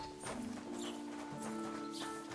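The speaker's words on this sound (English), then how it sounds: "Oh, horse and cart. Cool." A horse and cart pass by in the medieval video game Kingdom Come: Deliverance II, with steady clopping hooves and rolling rumble over a dense, noisy outdoor background.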